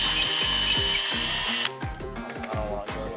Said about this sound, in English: I don't think I should drill much more